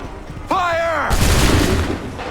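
A musket volley fires in Assassin's Creed III Remastered: a shouted command, then a dense, loud burst of overlapping shots that rolls on for over a second, with more shouting mixed in.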